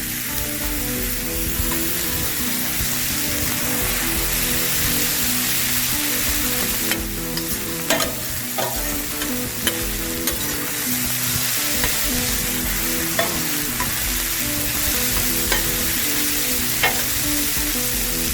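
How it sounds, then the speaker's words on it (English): Chorizo frying in a pan, a loud, steady hiss and crackle of sizzling fat throughout, with occasional light scrapes and taps from stirring, no voices. "we're gonna get this fried up"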